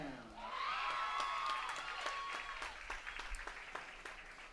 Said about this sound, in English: The crowd's getting very excited here over the cheerleaders' performance